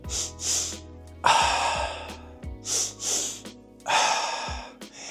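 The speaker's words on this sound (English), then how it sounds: "It's a double inhale followed by a long exhale." A person takes a physiological sigh: two quick inhales stacked one after the other, then a long audible exhale. The breathing is close and clear, repeats as a second cycle, and has no talk over it.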